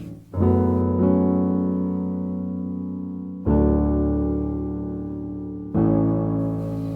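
A simple beginner's piano melody: a few full chords struck a couple of seconds apart, each sustained and slowly decaying before the next, loud and close with nothing else heard.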